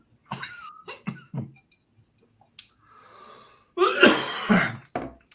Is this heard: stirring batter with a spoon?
no